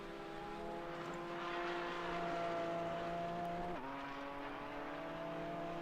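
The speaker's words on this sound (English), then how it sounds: "I'm going to try and crank it up a little bit for you all so we get a bit more car noise out of all of this" A race car engine in a sim racing video game, a GT4 car at the Nurburgring, drones steadily at high revs with layered tones, dipping briefly as a gear shifts before holding a constant loud whine again.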